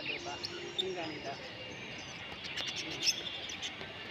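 Noisy, colorful birds calling in a small indoor mini zoo at the Imperial World shopping mall in Bangkok, sharp chirps and tweets scattered over a steady hiss of mall ambience, with people talking nearby.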